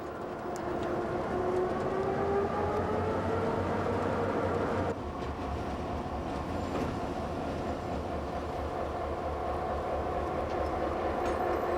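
A freight train wagon rolls in with a steady rumbling and a faint rising squeal in the first half, settling into a continuous low clatter of rail noise afterward.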